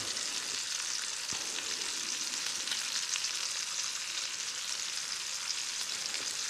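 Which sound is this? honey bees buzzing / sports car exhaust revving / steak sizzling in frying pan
steak sizzling in frying pan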